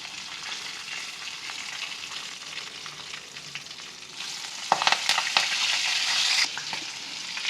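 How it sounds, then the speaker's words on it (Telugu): Asafoetida, green chillies and curry leaves fry in hot oil, a continuous close crackling sizzle that bursts louder and sharper partway through as the chillies and leaves go in, with no talking. "కొద్దిగా ఇంగువ వేసి వేగనివ్వాలి నాలుగైదు పచ్చిమిరపకాయలు కరివేపాకు"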